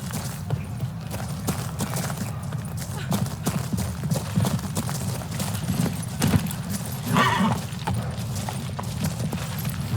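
Roach, the horse in The Witcher 3, gallops in a steady rapid clip-clop of hooves, close and continuous for the whole stretch, with a voice speaking over it at times.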